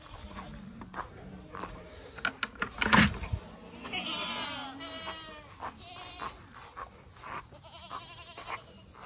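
Billy goats bleating in a pen, a couple of nearby wavering bleats rising in the middle amid clanks and knocks, with a steady insect buzz underneath.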